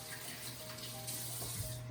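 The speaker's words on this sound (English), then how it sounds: "then I'm going to wash my hands." Tap water running steadily into a kitchen sink while hands are washed after handling raw chicken, a close, even rushing hiss with slight splashing changes near the end and no voices.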